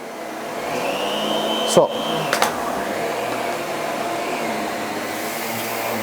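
A Miele Guard L1 Electro vacuum cleaner runs with a steady, loud motor whine and airflow roar, briefly interrupted by a couple of sharp clunks as it moves across the floor, with a voice barely heard.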